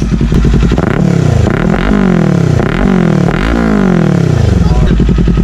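A Kawasaki 400cc big bike fitted with an aftermarket exhaust pipe revs hard and loud up close, its engine note rising and falling through several throttle blips over a rumbling idle.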